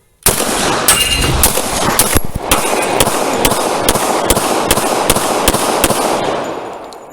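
A Ducks Unlimited Para 1911 pistol in .45 ACP fires a rapid string of about a dozen loud, sharp shots, close by and evenly spaced, over a few seconds outdoors.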